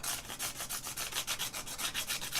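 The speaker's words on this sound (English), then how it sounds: "I just want my little diamond file again. Just going to go around it with this a little bit." A small diamond file rasps back and forth over a metal edge to take off a burr while assembling an Amiga B2000 case's back panels, giving quick, even rhythmic strokes, close and moderately loud, with no voices.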